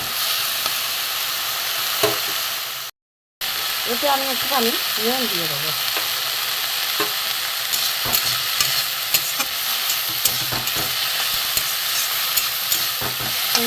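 In a wok of mustard oil, frying flowers keep up a loud, steady sizzle with frequent scraping stirs and small clicks; someone briefly talks partway through, and the frying runs on unbroken afterward.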